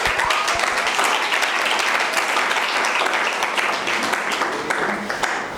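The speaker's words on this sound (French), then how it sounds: "Applaudissez pour moi." An audience at a youth leadership event bursts into loud, dense applause that carries on steadily and close, with many hands clapping at once and a faint voice briefly audible near the end.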